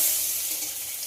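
Potato snacks fry in a pan over low-to-medium heat, giving a steady, close hiss of sizzling oil that runs without a break through the whole short stretch.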